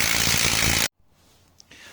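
A coilover spring is squeezed with spring clamps, making a loud, harsh, continuous mechanical tool noise for under a second before it cuts off abruptly into near silence.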